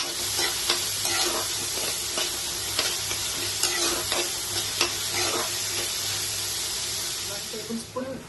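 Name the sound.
onions frying in a pan with salt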